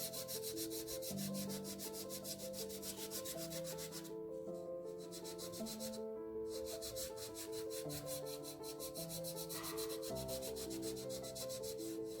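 Soft chalk pastel is rubbed and blended across paper for a sea-view drawing, a steady run of scratchy back-and-forth strokes with two brief pauses, over continuous background music.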